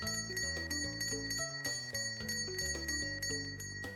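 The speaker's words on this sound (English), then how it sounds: "Oh, a bell. It works." A bell rings repeatedly in a horror video game, steady tinkling strikes in quick succession over a continuous tonal backdrop, close and clear, with no voices over it.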